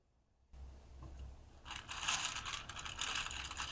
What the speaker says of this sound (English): when you turn the wheel, you can actually hear the noise of the coffee beans clanking around inside